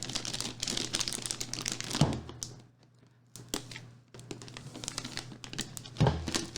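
Packing tape crinkles and crackles as it is handled and pulled off during the unboxing of a QNAP TS-X53D NAS unit, in dense rustling bursts close up, with a brief quiet gap partway through.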